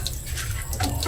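Water streams steadily from a kitchen tap into a sink while chicken adobo is being prepared, a continuous close splashing flow with a few drips and no talk over it.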